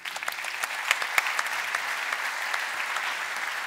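An audience applauds a commissioner at an industry event, a moderate, even patter of many hands with a few sharper claps standing out, continuing throughout.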